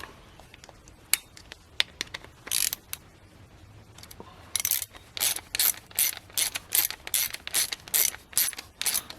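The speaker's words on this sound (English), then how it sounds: "Give him a little ratchet here." A hand ratchet tightens a part on a Murray lawnmower, first in a few scattered clicks, then in a quick run of close, sharp ratcheting strokes in a steady rhythm, alone without speech.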